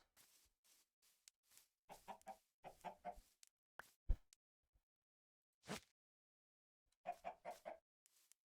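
Chickens cluck from a video game in a series of short, scattered bursts, with one louder squawk partway through and a quick flurry of clucks near the end; no one speaks over them.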